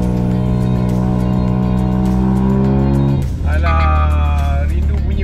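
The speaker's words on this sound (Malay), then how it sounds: "Tak senonoh juga bunyi straight pipe." Car engine with a straight pipe exhaust revving hard, loud and close, a sustained raspy drone that drops off around the three-second mark, then rises again with a rising whine.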